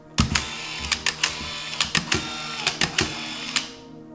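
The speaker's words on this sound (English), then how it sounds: "Then close the camera and it automatically transports the film to the first frame." A Canon T70 35mm camera winds its film automatically to the first frame, giving a close series of quick mechanical clicks and whirring ratchet-like bursts spread evenly over about four seconds, with no talking.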